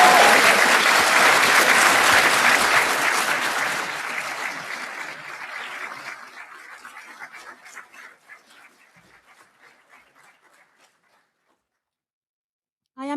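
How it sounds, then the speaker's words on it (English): Graduates at a university graduation ceremony burst into loud, dense applause with cheering and whoops, sustained for several seconds before gradually thinning to scattered claps and fading to silence. "can I invite our graduates to do a bit of cheering back and to thank the guests for all the support"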